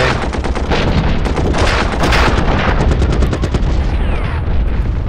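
A dense, continuous barrage of gunfire and artillery bombardment in the World War One strategy game Commander the Great War, with rapid overlapping shots and booms that are loud and unbroken throughout.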